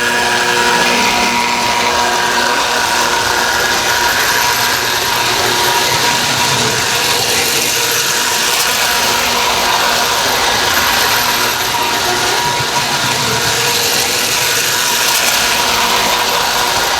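A continuous mechanical whirring and clicking of a pre-war American Flyer toy train running steadily along a track, busy and close throughout.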